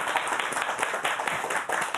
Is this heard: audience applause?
yes